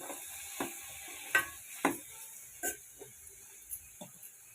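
A spoon stirs boiled broad bean pieces frying in a pan, giving several spaced scraping clacks over a faint steady sizzle.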